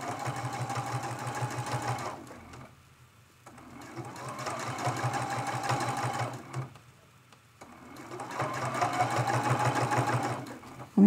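A sewing machine quilts a teapot mug rug in three sustained runs of fast, even stitching, each separated by a quiet pause.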